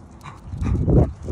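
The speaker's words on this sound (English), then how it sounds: "Who are you barking?" A dog lets out a couple of short, low, muffled barks close by in a house with several dogs and a cat, with faint panting between them.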